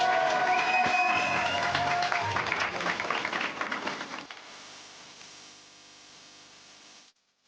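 An audience claps and cheers after a live show at Puy du Fou, loud applause that fades over several seconds into faint scattered clapping before ending abruptly.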